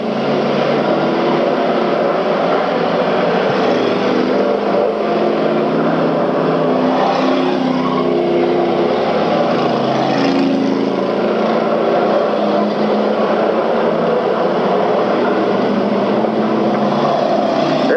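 Race cars at a 1994 endurance and wreck event roar down the backstretch, a steady, loud, continuous engine drone with no break over the whole stretch.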